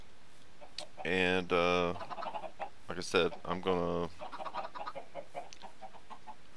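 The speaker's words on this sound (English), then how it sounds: "We have quite a few chickens in the kill pen." Several drawn-out, squawking chicken calls from the video game Minecraft, with the Better Than Wolves mod, ring out close by, then softer clucks, with someone speaking briefly in between.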